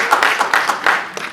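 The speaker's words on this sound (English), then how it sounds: "Well done, round of applause for that gentleman." An audience at a London School of Economics talk on Pakistan's banking claps in a short burst of scattered, uneven hand claps, fairly close and loud, fading slightly toward the end.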